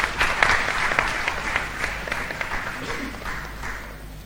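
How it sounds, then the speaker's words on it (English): An audience applauds, a dense patter of clapping that starts strong and slowly tapers off, with some crowd murmur underneath. "So please give them a round of applause as they join their folks."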